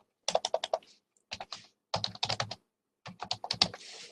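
Typing on a computer keyboard, three quiet bursts of rapid key clicks separated by short pauses, close and alone.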